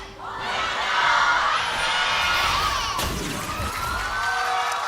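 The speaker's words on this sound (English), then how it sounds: "Crowd's going insane as we're getting ready for game number 3 of this epic Rise battle bout." A large arena crowd at an LCK League of Legends esports match cheers and shouts loudly and steadily, a sustained roar of many voices.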